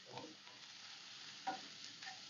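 Turmeric, coriander and cumin powder are stirred in a hot pan with a quiet, soft sizzle and a few faint scraping strokes, close but low in level, with no talking.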